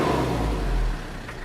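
A 1999 Isuzu Elf 4WD diesel box truck engine runs steadily up close, a low, loud rumble that eases off slightly near the end.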